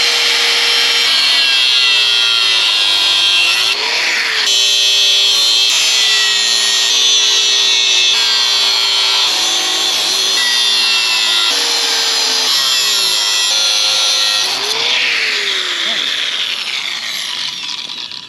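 A power saw or grinder cuts through wood pieces at diagonal angles, running loud and steady with shifting pitch as each cut bites and eases off, continuous across the whole stretch.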